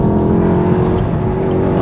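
Steady, loud engine drone from a manual MK7 Volkswagen Golf R under way on the road, a continuous low hum with slight revving swells and no talking.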